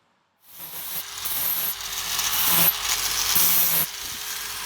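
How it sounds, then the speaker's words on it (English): An old Hitachi power tool starting up with a motor whine and rough, clanking mechanical noise that stays loud and steady for about four seconds in a blacksmithing shop, with no talking. "This old Hitachi sounds weird, and the motor seems to spin slower and make a weird clanking sound, but it has a lot of power."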